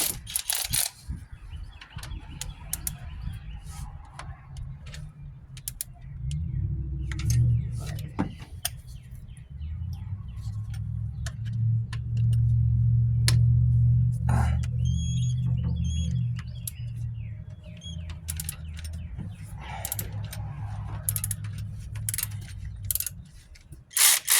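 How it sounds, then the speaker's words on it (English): A cordless ratchet backs out a 14 mm bolt on a 1997 Toyota Corolla during an alternator replacement: a close, sustained motor whir and buzz lasting several seconds, with scattered clicks and metallic taps around it. "I'm going to cheat a little bit. Use the cordless ratchet here."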